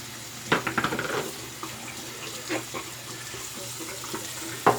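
A razor is rinsed of soap under a running tap. Water splashes in a short burst near the start and then settles into a soft, steady stream broken by a few faint clinks.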